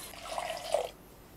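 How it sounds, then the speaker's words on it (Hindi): Water pours briefly into a thick car wash product mixture, a short, soft trickle that stops abruptly after about a second, close and fairly quiet. "थोड़ा सा हम पानी ले लेंगे इसके अंदर"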